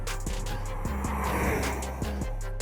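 Steady diesel drone from a Range Rover Velar's 3-litre diesel engine (221 kW, 700 Nm), a continuous low rumble with brief shifts in tone, heard alone without talk.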